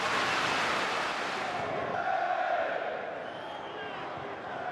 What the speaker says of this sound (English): The Arsenal fans who travel up from London cheering their every pass.